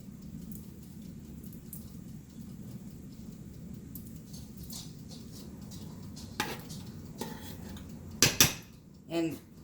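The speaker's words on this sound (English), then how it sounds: "I'm using a spoon that's like that, so the juice kind of squeezes through." A metal spoon presses elderberries against the side of a pot to squeeze out juice, with faint wet squishing and occasional clinks of metal on the pot, louder near the end.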